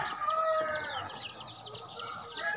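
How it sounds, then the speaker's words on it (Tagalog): Chickens cluck in a busy, continuous chorus at early-morning feeding time, with a rooster crowing among them and steady farmyard noise underneath. "Magpakain tayo sa mga alaga nating manok."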